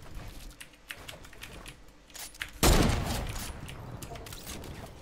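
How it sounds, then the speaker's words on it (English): Fortnite gunfire rings out as one sharp, loud shot that leaves a long echoing tail, after a stretch of soft clicky in-game noises and faint background chatter. "That bullet ripped past me."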